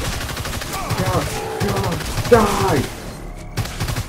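Rapid gunfire rattles from hunters shooting at a monster in the video game Evolve, a fast stream of shots kept under loud, excited talking.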